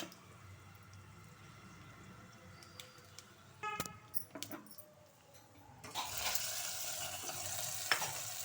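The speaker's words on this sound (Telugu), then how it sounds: "స్టవ్ ఆన్ చేసి పోపు వేసేసుకుందామని ప్యాన్ పెట్టేసుకున్నాను" Tempering spices hit hot oil in a home kitchen pan, giving a broadband sizzling hiss that swells from about six seconds on, after quieter stirring clinks and scrapes; no one speaks.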